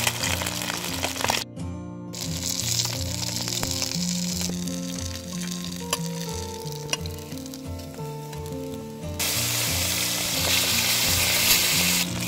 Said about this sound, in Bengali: এবার প্যানে তেল দিয়ে তেল গরম হওয়ার পর সবগুলো মাছ ভাজা